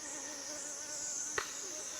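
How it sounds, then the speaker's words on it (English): A bee buzzes close by in the open air on a walk by the water, a steady high insect drone running through the whole stretch, interrupted by a brief bump near the end. "a bee just landed on me"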